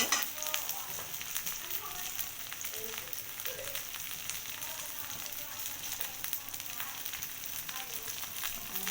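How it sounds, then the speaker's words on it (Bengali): Chili chicken fries in oil, a dense, even crackling sizzle running steadily and close throughout, with no voices over it. "ভেজে নিচ্ছি"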